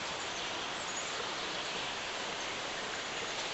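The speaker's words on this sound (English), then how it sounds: "We're going to walk on down here so we can see this little waterfall." Steady broadband rushing of falling water from a small waterfall nearby at an old mill, continuous and even with no voices.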